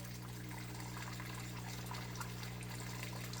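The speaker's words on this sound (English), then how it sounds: "As it drains back into the sump, no more water's coming out of there because the timer's off." Water steadily drains from an indoor fill-and-drain aquaponics grow bed back into the sump, a continuous low trickle and rush with a constant pump hum beneath it and no talk.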